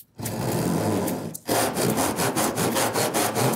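An aggressive, splayed-tooth hand saw cuts through wood up close, a loud rasping stroke followed after a brief pause by quicker rhythmic back-and-forth strokes, with no talking.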